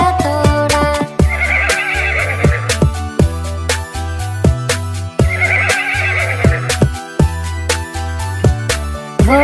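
A horse neighs and whinnies in repeated bursts over loud, rhythmic music from a Hindi children's song about a wooden toy horse.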